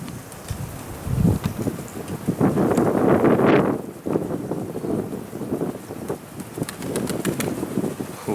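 Strong gusting wind roars and buffets the microphone while racing pigeons are flown, rising to a loud surge midway and then easing to choppier bursts, with possible wingbeats mixed in.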